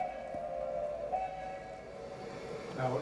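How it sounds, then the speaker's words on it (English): A narrow gauge train runs along the track with a steady low rumble and a sustained tonal whine or whistle, fairly distant and even, without speech. "you can see about how fast these trains moved"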